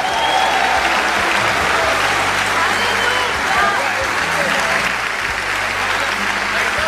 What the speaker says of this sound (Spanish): denle un aplauso más fuerte